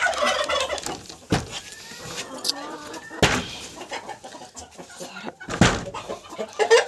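Turkeys gobble and cluck in a busy farmyard flock with chickens and ducks, with overlapping bird calls and occasional sharp knocks or bangs nearby.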